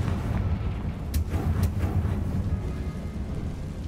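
A Confringo spell exploding in Hogwarts Legacy, a deep rumbling blast with a couple of sharp crackling bursts, fairly close and with no voices over it.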